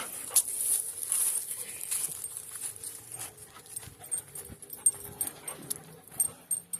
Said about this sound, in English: That's my hungry guard dog.